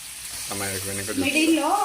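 Fish frying in a little oil on a clay pan gives a steady sizzle beneath a nearby person talking.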